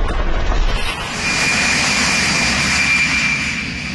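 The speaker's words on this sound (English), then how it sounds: "A Gulfstream number N379P, registered to a firm in Massachusetts" Loud, steady roar of a Gulfstream business jet, registration N379P, heard close and continuous with a high whine over a deep rumble, alone with no voices.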